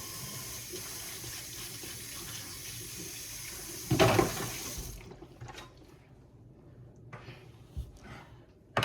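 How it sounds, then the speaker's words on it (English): Running tap water splashes steadily into a sink while hands are washed, a soft continuous rush with a louder burst before the flow stops, then quiet handling noises. "Let me wash my hands, y'all, right quick"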